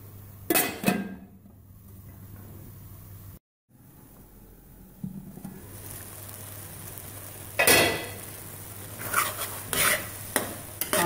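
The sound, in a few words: stirring and roasting carrot halwa in a pan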